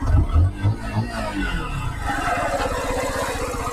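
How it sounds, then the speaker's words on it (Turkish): A Mondial Drift 125 L motorcycle exhaust drones steadily at night, rising into a sustained rumbling buzz after some low thumps and muffled voices nearby. "Duydu egzozun sesini."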